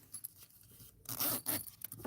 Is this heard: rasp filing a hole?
no